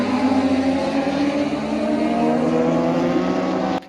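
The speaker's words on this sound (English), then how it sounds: "see all the safety cars out there inspecting the track" MotoGP safety cars drive on the track at the Grand Prix of India, producing a steady, fairly loud engine drone with a rising pitch as they pass, before cutting off abruptly at the end.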